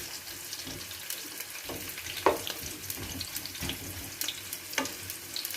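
Chopped onion tipped into hot oil for a home-style mixed vegetable curry, giving a soft steady sizzle and faint crackle with a few sharper clicks from stirring, close and moderately quiet, no talk.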